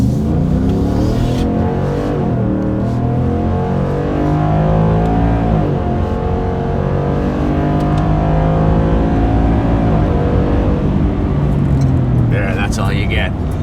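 2021+ Ford F-150 with an MBRP 3-inch cat-back dual rear exit exhaust revving hard at wide open throttle, a loud, deep rising engine roar heard from inside while driving, sustained and close.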